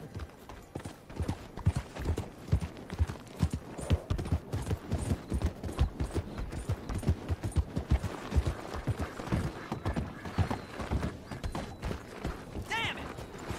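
Steady, rapid clip-clop of horse hooves from riding in Red Dead Online, a continuous rhythmic trot heard close and fairly loud over a busy game soundscape with no speech.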